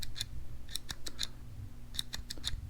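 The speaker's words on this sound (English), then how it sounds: "Just a little ASMR of a click." A car fog light switch being installed in a Honda Civic bumper clicks repeatedly, each sharp, crisp click close and isolated against a quiet background, in small irregular clusters.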